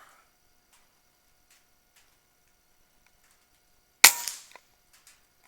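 A single sharp crack from an Air Venturi Avenger .22 PCP air rifle, loud and close, ringing briefly in a quiet outdoor setting, followed by a faint distant tick.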